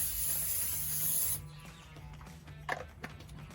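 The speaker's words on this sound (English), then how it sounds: "we're going to spray down our cookie sheet first so that the biscuits don't stick" A cooking spray can hisses in one sustained blast for just over a second onto a baking sheet, followed by quiet clinks and a faint knock of handling.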